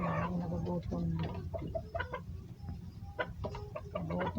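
Hungry farm chickens cluck repeatedly at close range during feeding time, a busy overlapping chorus of short calls over a steady low background noise.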